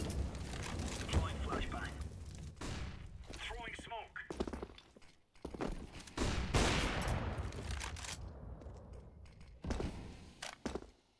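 Grenade explosions go off in a video game, mixed with bursts of gunfire and rumbling blasts. Players talk over the noise throughout.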